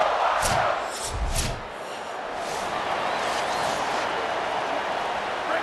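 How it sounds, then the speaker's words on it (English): Stadium crowd in the College Football 27 video game, Northern Illinois versus Ohio State, a broad, steady roar of cheering with a few thumps at the start, filling the background continuously. "this crowd was already jacked up"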